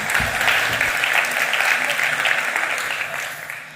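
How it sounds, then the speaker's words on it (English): A business audience applauds for a presenter, a dense, even wash of clapping that holds steady and begins to taper off near the end. "One more round of applause, please."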